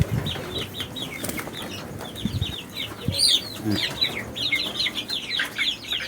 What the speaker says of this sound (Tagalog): ito mga heritage chicken ito ang Rhode Island Red o Black Astrolorp